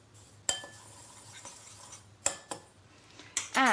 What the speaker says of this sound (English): Stir it in a bit, I think.